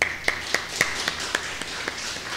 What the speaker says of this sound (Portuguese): o espírito superior de Humberto Fescher, ao qual renderemos uma salva de palmas.